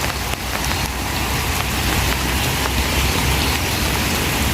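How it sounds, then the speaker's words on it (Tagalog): Hail and rain pour down in a small Queensland town, making a dense, loud, continuous hiss and patter with scattered sharper hits that never let up, and no voices come through. "Umuulan pa, umuulan pa."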